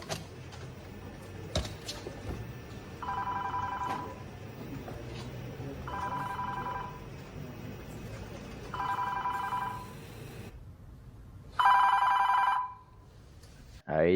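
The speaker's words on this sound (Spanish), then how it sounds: "Y sigue sonando, ¿no? La alarma." A cockpit alarm in a film about an air accident sounds in four repeated bursts, roughly a second each, at regular intervals, with the last one louder and harsher, over a faint background.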